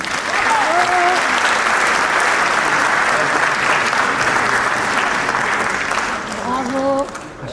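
An audience at an African diaspora gathering in France applauds a speaker, with loud, sustained clapping for several seconds. A voice is heard briefly at the start and again near the end.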